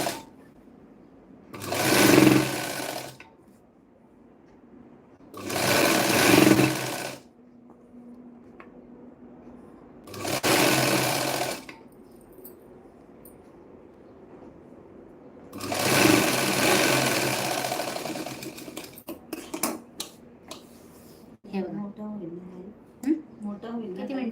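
A sewing machine runs in four separate bursts of a few seconds each, stitching the shoulder cover of a blouse. Quiet pauses fall between the runs, and handling noise comes near the end.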